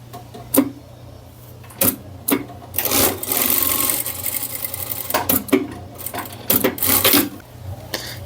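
Sewing machine running in short bursts and longer runs, stitching the seam of a fabric tote bag, with pauses between stretches of whirring and a steady low hum underneath.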